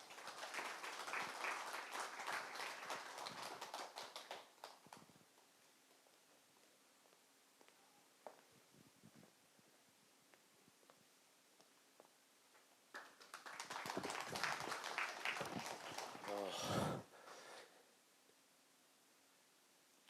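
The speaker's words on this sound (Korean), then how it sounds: "힘찬 박수로 맞이해 주시면 감사하겠습니다." An audience at the launch ceremony of a memorial society claps in two bursts of applause, the first fading out, then a quiet stretch of scattered taps and movement, then a second round of clapping that dies away.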